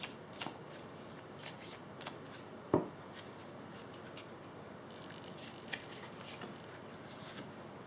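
Tarot cards are shuffled and drawn close by, giving soft papery riffles and light slaps with one sharper snap partway through, over a faint room hush.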